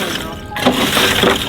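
Ice in a frozen water trough on a farm in bitter cold is broken up in a quick burst of cracking and crunching, a couple of close, sharp impacts within a second or so.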